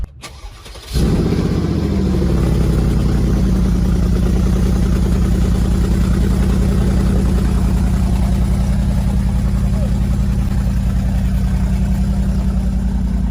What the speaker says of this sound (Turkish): Evet şu an marşa basıyorum.